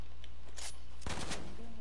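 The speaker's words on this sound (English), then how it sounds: "Someone is shooting at me." Video game gunfire, two loud close bursts of rapid shots, the second heavier, over a constant dense game background.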